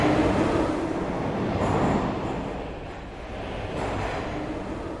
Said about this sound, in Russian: Мы вызвали поезд.